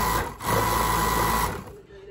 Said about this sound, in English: The Pegasus W600 has a really good reputation for being a good quality cover stitch.